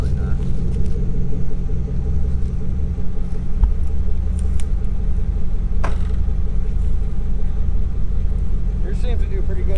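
A Jeep Grand Cherokee engine drones and rumbles steadily while stuck in mud at a mud ranch, loud and constant, with people talking nearby.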